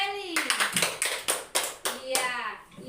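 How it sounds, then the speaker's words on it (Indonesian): Schoolchildren in a classroom clap for a classmate, a quick run of sharp, fairly close hand claps with young voices sounding over and between them. "Tepuk tangan untuk Feli."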